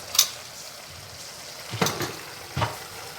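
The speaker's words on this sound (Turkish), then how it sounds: "Çorbamız da kaynıyor. Domates çorbamız." Tomato soup with onion and a pinch of sugar simmers in a pot, giving off faint, sparse bubbling pops and soft sizzles at a quiet, close distance.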